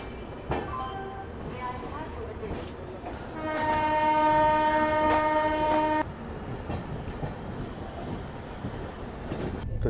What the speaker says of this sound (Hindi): चलो फाइनली डिपार्चर हो गया अपना ग्वालियर जंक्शन से